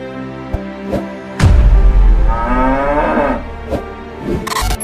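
A cow moos one long, loud, low call that swells and fades, with a few sharp knocks and clatters scattered around it and no speech.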